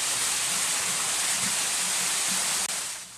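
Akkaya waterfall in the Osmaneli district of Bilecik, Turkey, a natural beauty spot, roars as a steady, loud broadband rush of falling water that runs unbroken and alone before briefly dropping off near the end.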